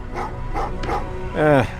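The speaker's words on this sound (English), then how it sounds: "Well, what's with the dogs?" Dogs in the Terminator Resistance video game give a few short yips and barks, then a longer whining howl, all close and fairly loud.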